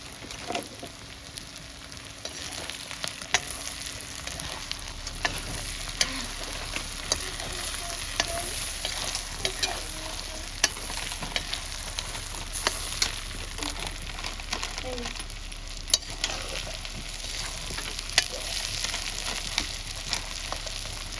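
Onion and turmeric fry in a pan over an open village fire, a dense steady sizzle with crackling pops running throughout, close and continuous with no talk.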